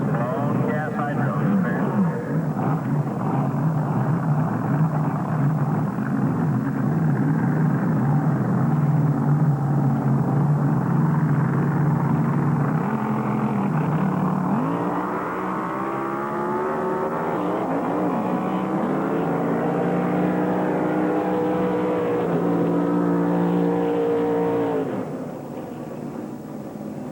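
Blown gas hydro drag boats racing at Chowchilla, with a loud sustained roaring engine drone that rises and shifts in pitch, heard from a distance with an announcer talking over it.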